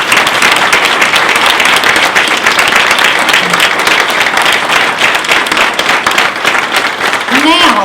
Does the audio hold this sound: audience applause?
yes